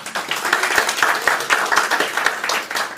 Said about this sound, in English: Finally, I would like to give a big round of applause to our AGS advisor,